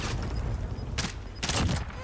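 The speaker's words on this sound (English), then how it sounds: "we used the last of our magazine to get the kill" Gunfire in the video game Warzone: dense bursts of automatic shots, with two sharp, loud volleys standing out over a continuous crackle of fire.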